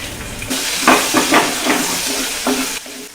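Garlic and green chili frying in hot oil for a Kerala okra mappas, a steady broadband sizzle with a few bursts of stirring, close and continuous with no talk.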